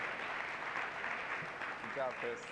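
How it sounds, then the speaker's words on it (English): Fairly faint applause from an audience at a student affairs session, a steady wash of clapping with a couple of brief voices breaking through near the end. "Round of applause for both Chris and Paul."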